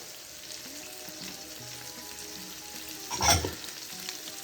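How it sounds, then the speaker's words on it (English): Onions frying in a skillet for a one-pot BBQ chicken meal give a soft, steady sizzle with occasional faint knocks and one louder scrape or clatter near the end. "I'm going to cook my onions for just a few minutes and let them start getting a little bit translucent"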